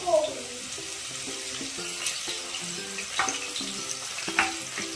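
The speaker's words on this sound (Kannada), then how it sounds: "ಇವಾಗ ಎಣ್ಣೆ ಕಾದಿದೆ ಇದಕ್ಕೆ ಈರುಳ್ಳಿ ಹಾಕೊಳ್ಳೋಣ ಇವಾಗ ಹಸಿಮೆಣಸಿಕಾಯಿ ಹಾಕೊಳ್ಳೋಣ" Onion and green chillies frying in hot oil, a steady close crackle with stirring clatter over a faint tonal background and a few brief louder bursts.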